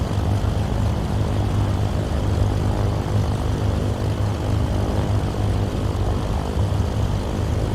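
Twin piston engines of a FlySimWare C414AW Chancellor in Microsoft Flight Simulator drone steadily as power is run up for a climb to 19,000 feet, a loud, continuous propeller hum with a low throbbing beat and no speech.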